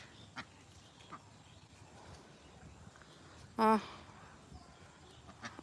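On a duck farm a single loud, close quack bursts out partway through, with only faint scattered noises and quiet room tone around it.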